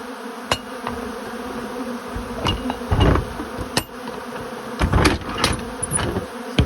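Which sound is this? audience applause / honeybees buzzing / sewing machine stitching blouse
honeybees buzzing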